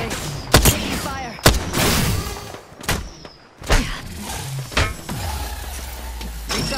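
Video game gunfire in a squad shooter match, several sharp loud shots and thuds scattered across the stretch with short gaps between bursts, mixed with game effects and faint background voices.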